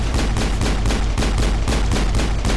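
Rapid automatic gunfire from the Mass Effect video game, a steady string of evenly spaced loud shots firing in close succession for a couple of seconds with no talk.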